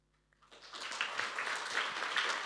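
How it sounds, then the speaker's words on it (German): Applause from an audience at a Jugend hackt youth hackathon presentation in Munich rises from a quiet room into sustained, dense clapping that holds steady and fairly distant. "Applaus für das virtuelle Code-Museum"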